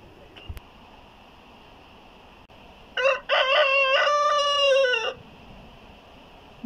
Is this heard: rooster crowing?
yes